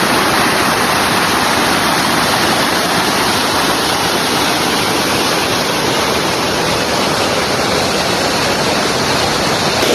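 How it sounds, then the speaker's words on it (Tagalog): Bamboo Falls in Kasilak, New Corella, Davao del Norte: a steady, loud waterfall rushes and roars unbroken for the whole stretch, dense broadband water noise with no voices over it. "Ay, gitawag siyang Bamboo Falls"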